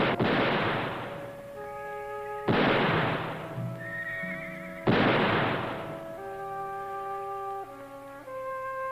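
Horses in a Western drama scene neigh and whinny three times in succession, each loud burst followed by a long, falling tonal whinny, with a dull rumbling background beneath.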